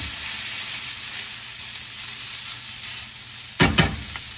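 Caramelizing onions and peppers sizzle steadily in a frying pan, with a brief scrape of stirring near the end; close, loud, and no speech.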